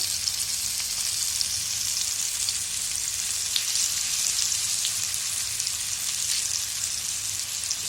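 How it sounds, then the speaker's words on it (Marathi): Rawa-coated halibut sizzles uncovered on a hot tawa over lowered gas, a constant crackling hiss heard up close with no talking. "आपल्या तव्यात राहतील तेवढी मच्छी टाकायची"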